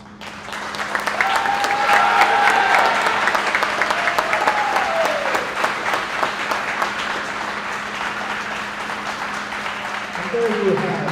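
Prolonged audience applause honoring seniors at a school swimming and diving event, with sharp individual claps throughout, a faint whistle-like tone early on and a steady low hum underneath.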